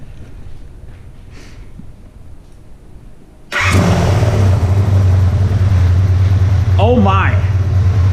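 An Interceptor motorcycle engine cranks on the starter button after some quiet, then catches and settles into a loud, rumbling idle close by, with a brief rev partway through.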